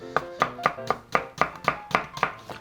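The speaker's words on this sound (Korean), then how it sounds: "양파 채 썰어 주시고" A knife slicing half an onion into thin strips on a cutting board, nine crisp, evenly spaced chops in a steady rhythm, close and clear with no talking.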